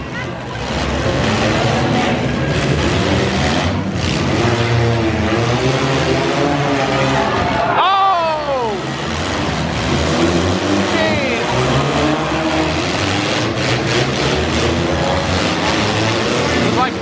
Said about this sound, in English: goal is to smash into one another until there's no more driving capability left in your vehicle